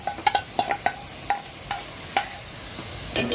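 Coconut and sugar cooking in a wok: a string of sharp scraping and clinking stirs, spaced unevenly, over a soft steady sizzle, close and fairly loud, with no voices.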